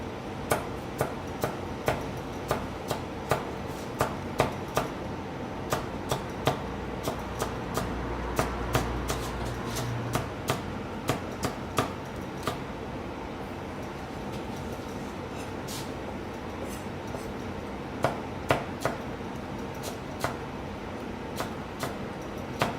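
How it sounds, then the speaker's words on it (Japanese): Fresh young ginger being minced with a knife on a cutting board, rapid regular chopping taps repeating steadily and close for the whole stretch over faint background noise, no talk. "新生姜も食べてもらいますので、みじん切りにしていきたいと思います。"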